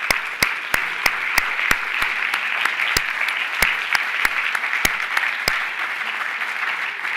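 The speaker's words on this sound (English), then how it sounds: "Let's give them a round of applause" An audience applauds for school administrators, teachers and leaders at a Merced County Schools annual education report event: steady, dense clapping that holds for several seconds, with a few sharper claps standing out above the crowd.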